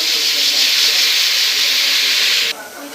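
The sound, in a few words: spices sizzling in hot oil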